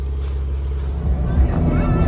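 A Jeep JK cruises on a road at about 40 mph after a front caliper replacement, a steady low engine and road drone from inside the cabin, with someone speaking over it.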